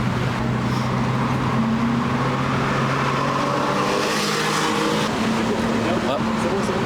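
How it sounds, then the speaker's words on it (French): A Porsche Singer follows on the road on the way to a car gathering in Andermatt, its steady engine drone continuous underneath throughout, with people talking over it inside the car. "Porsche Singer"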